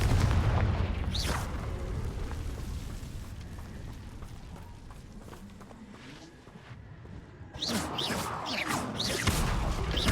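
Confringo blasting spell in Hogwarts Legacy, heavy crackling explosive bursts at the start and again near the end with a rumbling, noisy wash between, loud and close.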